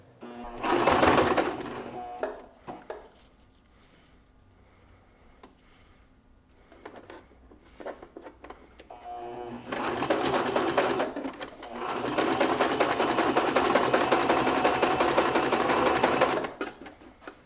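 A sewing machine stitches along a fabric edge on elastic loops for a harness, running in two bursts: a short whir near the start, then a long steady run of rapid needle chatter, with quieter handling between.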